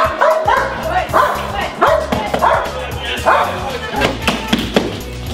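A protection dog in training gives repeated sharp barks and yips mixed with whimpers, close and loud in an uneven rhythm, while a handler talks over it.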